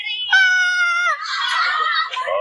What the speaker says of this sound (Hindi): सुनिए चीखें।